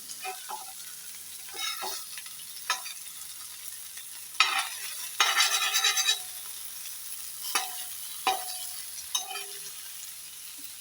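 Fish frying in oil while being turned over in the pan, a quiet bed of sizzling broken by irregular utensil taps and scrapes and a louder burst of crackling spatter midway.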